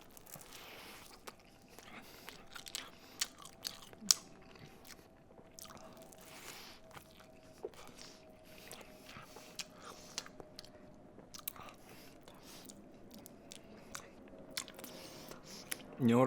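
Someone eats a sausage sandwich with hot sauce on soft bread, close up: quiet, wet squishing bites and chewing with occasional crunchy clicks, steady and intimate, over faint background hum.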